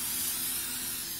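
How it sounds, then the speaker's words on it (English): Olive oil sprays onto focaccia dough in a steady, close hiss that lasts just over a second with no other sound. "Now what you want to do is spray it with some olive oil"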